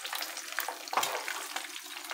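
An egg fries in a pan with a bright, crackling sizzle that stays close and steady, with a sharper pop near the middle.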